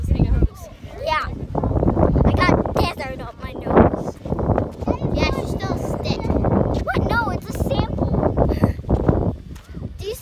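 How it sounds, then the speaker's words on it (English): Strong desert wind at Arches National Park, Utah, buffeting the microphone in loud, gusty bursts throughout, with people talking over it. "It's very windy right now."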